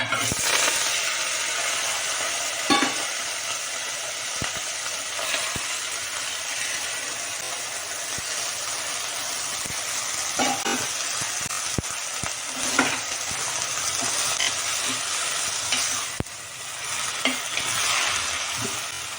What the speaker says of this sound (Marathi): खूप खूप तेल तापलेलं आहे त्यामुळे मिरची टाकायची आणि एका सेकंदातच मेथी टाकायची